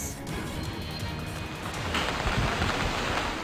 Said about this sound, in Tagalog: Pabugso-bugsong ulan ang naranasan ng mga residente sa Caraga Region dahil sa epekto ng Tropical Depression Senya.